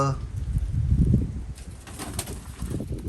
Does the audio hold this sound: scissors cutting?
no